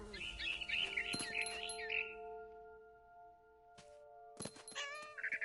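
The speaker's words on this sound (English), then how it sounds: "Then I heard chirping outside my window. It was a barn swallow going back to her nest." Bird chirps from a barn swallow in the video game What Remained of Edith Finch, quick bright twitters in short bursts over steady tonal game ambience, with gaps of near-quiet between.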